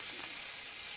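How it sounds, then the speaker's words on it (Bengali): Steady, close hiss of food frying and sizzling in a pan, an unbroken bright crackle that holds level for a second with no talk. "ভাজা করে নিচ্ছি।"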